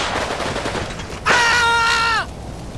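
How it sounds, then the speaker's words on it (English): Pistol shots crackle in a Combat Mission wartime battle, a quick burst of sharp reports near the start, then a loud sustained whistling, descending tone dominates for about a second before the firing noise resumes. "they're shooting with their pistols"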